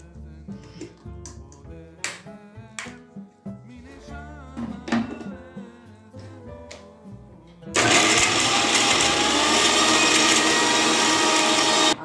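A mixer grinder starts up abruptly and runs loud and steady after a stretch of clinking and handling noises, grinding batter continuously to the end.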